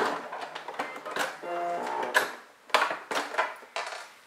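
A sewing machine runs a zigzag stitch along a strip of fabric, making a steady mechanical whir broken by short pauses and restarts, close and fairly loud with no talk.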